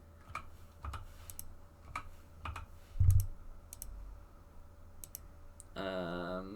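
Calculator keys tapped out one at a time in an irregular sequence, close and fairly quiet, with a brief electronic beep tone near the end.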